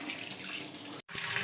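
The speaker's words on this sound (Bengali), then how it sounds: "এই যে সব মাছ টাছ ধোয়া ধুয়ে হচ্ছে" Fish are rinsed under a running tap, giving a close, steady rush of splashing water that cuts out for a split second and then resumes.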